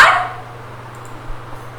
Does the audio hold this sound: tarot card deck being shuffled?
no